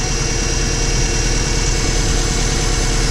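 A Subaru with overheating and misfire problems idles with its door open, a steady low engine drone and vibration running continuously and close, with no talking.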